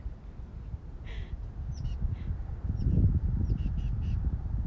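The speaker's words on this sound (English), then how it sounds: "I love this bird." Bird calling outdoors, a few short caws and chirps at moderate distance over a windy, rumbling background.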